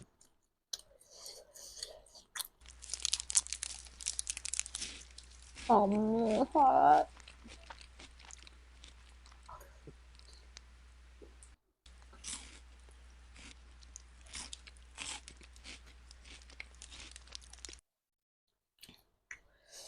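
Pizza Hut Melts being chewed up close, with irregular crunchy clicks and smacks running through most of the stretch and a short vocal sound in the middle.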